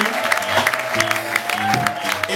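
A church congregation at a Cameroonian Easter retreat claps in a lively, rhythmic burst, the applause spreading through the room alongside music and brief voices.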